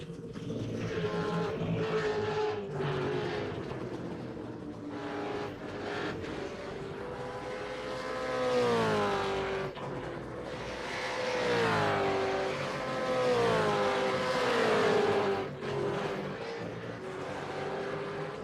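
Race cars in a Manawatu Car Club winter series round scream past with rising and falling engine notes, revving through gear changes as they approach and pull away, loud and close at times.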